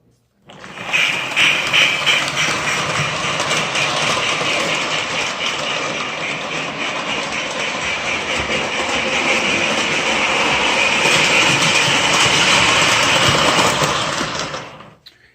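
A Lionel 8304 model locomotive, freshly cleaned, starts up and runs with a steady close-up motor whir and rattle, loud and continuous for about fifteen seconds before cutting off.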